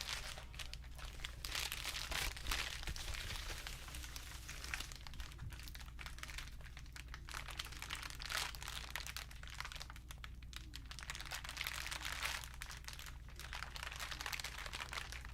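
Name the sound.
crinkling a large crinkling panel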